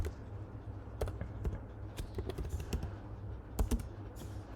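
Typing on a computer keyboard: a quiet, irregular stream of soft key clicks with a few sharper taps, close by and heard alone over low room hum.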